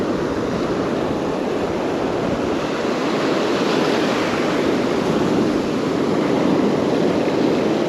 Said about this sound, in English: I'm going just right into the surf